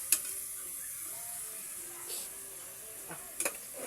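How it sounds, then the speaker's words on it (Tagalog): Garlic and ginger sauté in a pan with a soft, steady sizzle, broken by a few sharp clinks of a utensil stirring against the pan. "ginisa na namin sa bawang at luya"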